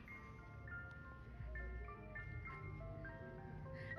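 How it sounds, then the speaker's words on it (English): An ice cream truck arriving, its jingle of steady high tonal notes playing in a repeating tune over a low engine rumble, moderately loud and close. "I just said that the ice cream truck should come, and it came."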